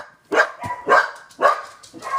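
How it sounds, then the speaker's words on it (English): Several dogs bark in quick repeated bursts, loud and close, with a rough, excited rhythm and no talking. "And my dogs are going crazy about something."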